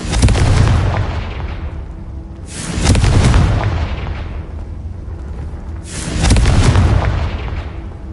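Confringo spell explosions from the video game Hogwarts Legacy, three loud booming blasts a few seconds apart, each with a sharp onset that rumbles away, with no talk.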